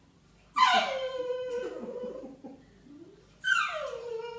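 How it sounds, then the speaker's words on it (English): A dog whines indoors during a home yoga session, with two high, drawn-out whimpering cries that slide downward, each trailing into softer whining, close and fairly loud. "Down home yoga with a whiny dog"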